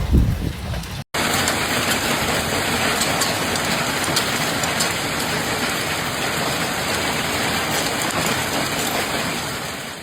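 Heavy rain with hail pours down steadily in Eberndorf, Austria, a dense, loud hiss and patter that continues without pause after a brief opening thump and cut.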